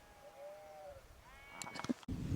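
A scrawny sheep on Dartmoor bleats faintly a couple of times, wavering and thin, followed by a louder rustle or thump near the end.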